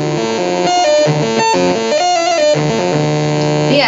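Buzzy ARP analog synth tones stepping between notes, with a resonant filter sweeping and squelching through the sound, loud and continuous.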